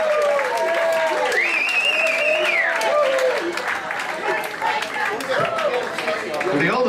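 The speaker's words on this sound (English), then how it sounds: "I want a big round of applause for the newest grandfather in the room, Richie Corricelli." Crowd applause and cheering for the drummer at a live blues band concert in a club, sustained clapping with whoops and talking voices over it, dipping midway and then swelling again.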